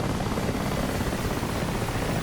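Mi-8 helicopter flying in DCS World, a steady, dense rotor and turbine roar that stays loud and unbroken throughout, with no voices.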